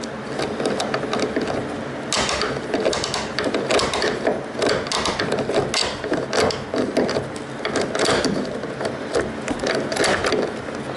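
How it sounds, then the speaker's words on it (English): A Snap-on ratchet skips and clicks on quarter-inch bolts during a 1970 Pontiac LeMans wagon restoration, giving a dense run of rapid irregular ratcheting clatter and mechanical knocks that continue steadily and close throughout. "My snap-on ratchet's skipping."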